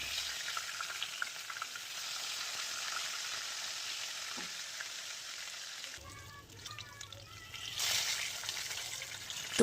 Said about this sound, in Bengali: তেলটা গরম হয়ে গেলে লবণ হলুদ মাখিয়ে রাখা মাছগুলো একে একে দিয়ে মাছগুলোকে উল্টে পাল্টে লালচে করে ভেজে নেব